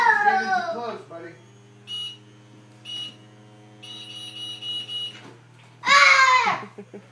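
A toy gives several separate electronic beeps, loud and close, between bursts of a child's excited, high-pitched voice.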